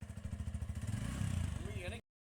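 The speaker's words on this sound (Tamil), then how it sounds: "இன்ஜின் சவுண்ட் அப்படி இருக்கு" A TVS Radeon motorcycle engine idling and running close by with a fast, steady thumping pulse that rises slightly before cutting off abruptly.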